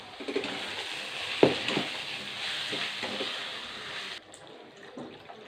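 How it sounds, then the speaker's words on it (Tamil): Water poured into a pan of curry with fried potatoes, chilli powder and salt for a black-eyed bean kara kuzhambu, giving a steady hissing pour that stops abruptly near the end. "தண்ணி ஊற்றி"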